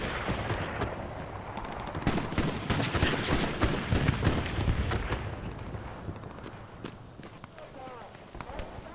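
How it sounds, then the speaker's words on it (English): Aerial bombing run in the WWII shooter game Hell Let Loose, with a cluster of heavy booming blasts and crackling gunfire building in the middle and fading out, while players talk over it. "Bombing run coming in."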